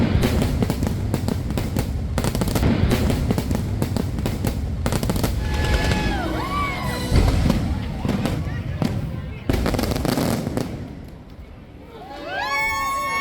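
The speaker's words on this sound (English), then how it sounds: "helping to drown out the sound of the fireworks, everywhere else it feels like you're in a war zone" Fireworks crackle and bang in a dense, continuous barrage, with whistling rockets rising between the bursts and people talking underneath.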